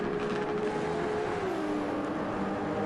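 A Toyota race car in Aston Martin livery in Gran Turismo 7 at Yas Marina, its engine droning steadily at a sustained pitch, dipping slightly partway through, heard alone and fairly faint.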